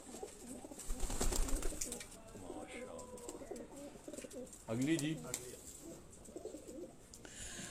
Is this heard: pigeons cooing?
yes